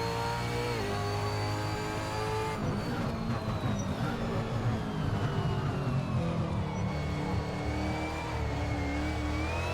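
Race car engine at Bathurst in the Assetto Corsa video game, a loud continuous drone that revs and shifts pitch through corners, steady and close throughout.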